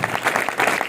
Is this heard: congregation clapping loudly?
yes